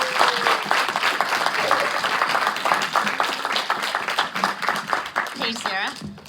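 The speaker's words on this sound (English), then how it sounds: "We'll give them a round of applause." Convention panel audience at a fan expo applauding the guests, dense clapping throughout with voices talking over it, thinning toward the end as scattered cheers and speech take over.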